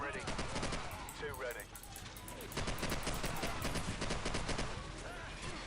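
AK rifle gunfire in the video game Call of Duty: loud, rapid automatic bursts fill the whole stretch almost without pause, with a voice faintly audible underneath.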